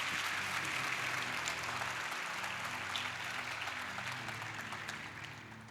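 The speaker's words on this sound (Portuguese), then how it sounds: "Você pode dar um aplauso para Jesus aí" Audience at a church conference applauds steadily, a broad roomy wash of clapping over a low sustained tone from the hall's sound system, gradually tapering toward the end.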